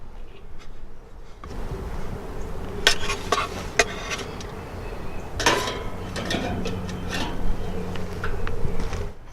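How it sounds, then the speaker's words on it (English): Steaks coming off a charcoal grill bring metallic scrapes and clinks of tongs and grate over a steady background hiss, with several sharp taps clustered close by. "All right, the steaks just come off the grill."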